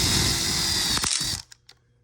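A power drill drives screws into an outdoor kitchen frame, whirring steadily for over a second before stopping abruptly, followed by a couple of faint clicks.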